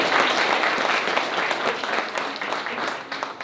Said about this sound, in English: can we give everybody a round of applause?